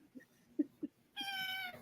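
A house cat gives a drawn-out meow near the end, following a few short soft sounds, heard close and alone with no talk over it.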